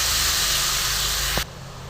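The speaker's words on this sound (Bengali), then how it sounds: "এই মশলাটা আমি আবার ঘিয়ের মধ্যে দিয়ে দিলাম" Spice paste of sesame, curry leaves and chilli sizzles loudly in hot ghee, a steady close hiss with a low hum underneath, dropping in level abruptly near the end.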